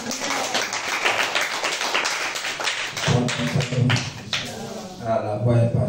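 A church congregation in Bobo claps and cheers in praise, rapid overlapping handclaps building into loud rhythmic applause mixed with voices and music.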